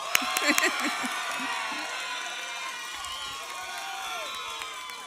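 Audience at a high school commencement ceremony cheering and whooping for an honoree, a burst of shouts near the start fading into a sustained, moderately loud crowd roar with scattered voices.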